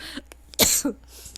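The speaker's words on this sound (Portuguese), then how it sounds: "Hoje eu tô com uma tosse irritante" A single sharp cough bursts out near the mic, followed by a short softer throat sound, in an otherwise quiet room.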